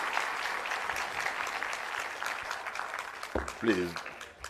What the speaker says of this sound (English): Oh, have the claps again to the brass band.